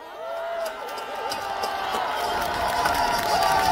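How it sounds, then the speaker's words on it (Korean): An outdoor crowd at a rainy winter rally in Busan Station square claps and cheers in a broad, steady wash that swells toward the end, heard from among the audience. "뜨거운 박수를 한번 보내주십시오"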